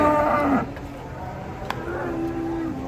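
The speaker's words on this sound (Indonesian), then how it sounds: "Sapi jumbo-jumbo bagus-bagus pada datang guys." Cattle low and moo in a couple of calls amid shuffling and background noise as large jumbo cows are unloaded from a truck, with faint voices nearby.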